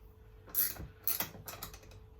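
A bearing puller is spread inside a Honda CBR 125R motorcycle wheel, giving a few close, quiet metallic clicks and ratcheting taps in quick succession.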